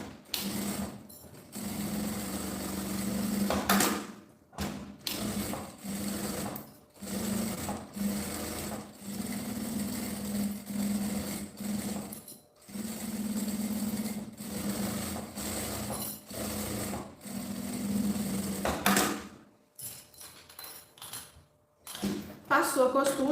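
A sewing machine stitching along the edge of fabric for a small phone pouch, a close, steady whirring hum in repeated bursts broken by short pauses, with a soft clatter near the end.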